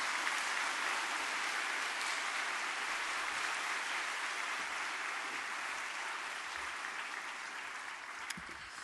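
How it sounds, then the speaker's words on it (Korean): Church congregation at a Sunday worship service applauding to welcome a speaker, steady broad wash of many hands clapping throughout, even and sustained with no talk over it. "박수로 맞이하겠습니다."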